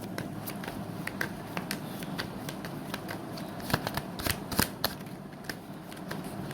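Tarot cards being shuffled by hand, a close, rapid run of crisp riffling flicks and taps that bunch into a louder burst midway, with no talking.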